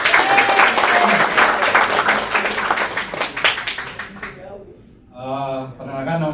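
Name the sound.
applause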